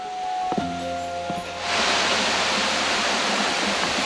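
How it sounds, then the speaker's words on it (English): A waterfall at the end of a steep, slippery walking track along the Great Ocean Road in Australia, a broad steady rush of falling water that swells in suddenly and then holds loud and close. "Waterfall."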